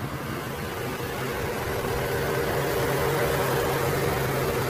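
An Audi RS5 Sportback 2021 with a V6 twin-turbo engine idling, a steady, close, even rumble with constant low vibration and no change in pitch, no one speaking.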